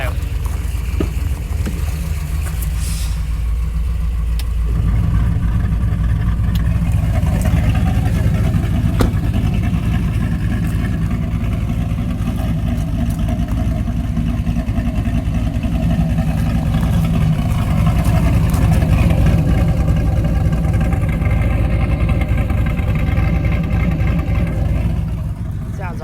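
A Trailblazer SS with a 408ci LS2 stroker idles through Doug's Headers with the exhaust cutouts open. A loud, rough, continuous burble swells noticeably after a few seconds and then stays heavy and close.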